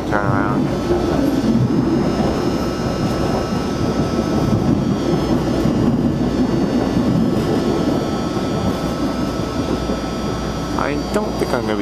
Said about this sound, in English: We'll let the train turn around.